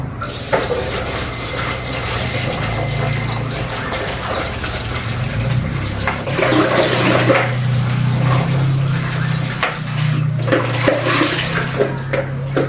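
Running tap water splashes loudly and continuously close by while chili peppers are washed under it, with occasional handling knocks in the stream and no talking.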